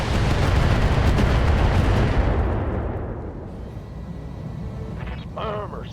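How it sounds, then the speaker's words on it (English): An explosion sound effect starts as a heavy, loud booming blast, then decays into a long, fading rumble with faint chirping tones near the end. "I wish for an explosion. An earth-shattering kaboom."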